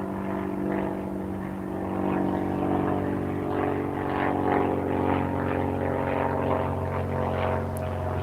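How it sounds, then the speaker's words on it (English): A propeller airplane passing overhead, a steady droning engine hum with layered tones that swells slightly and holds through the stretch, heard from a distance outdoors with no talking. "I'll let the airplane continue to go by."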